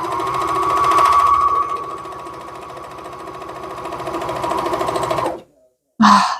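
A Juki MCS 1500N chain and cover stitch sewing machine runs in a steady, fast whirring hum for about five seconds, then stops, followed by a brief short burst of running, close and with no voices.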